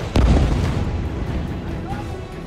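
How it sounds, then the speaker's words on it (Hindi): A single heavy missile explosion in Gaza booms close and loud, its low rumble decaying over a couple of seconds. "मिसाइल धमाके पहले की तरह हो रहे थे।"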